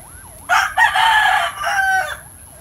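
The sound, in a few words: Milsims Cross Lemon gamefowl rooster crowing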